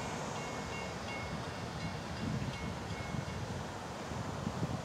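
An FEC freight train crosses Michigan Street in East Central Florida, a steady broadband rumble of rail cars and wheels on track with wind noise throughout, continuous and fairly loud with no talk.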